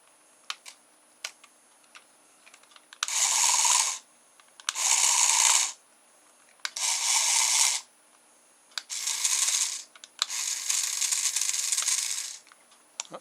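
Small rear motor of an RC toy car whirs through its plastic gears in five separate runs of about one to two seconds each, with short quiet gaps and faint clicks between them.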